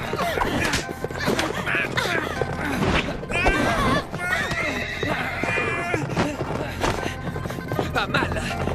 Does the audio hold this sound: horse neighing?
yes